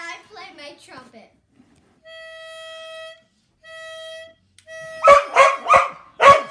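A pet dog howls along to a trumpet at home: the dog's wavering, broken howls come first, then two long sustained trumpet notes, followed by louder close howling and yelping.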